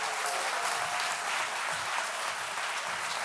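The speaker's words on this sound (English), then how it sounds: "For this great team, let us cheer." Audience applause at a literature awards ceremony, steady dense clapping filling the hall from start to finish with no talk over it.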